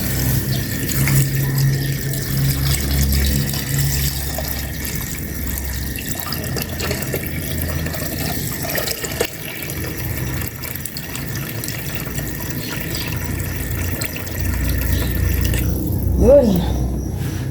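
Water pours steadily into a cooking pot, a continuous rushing splash that runs the whole time over a faint background hum.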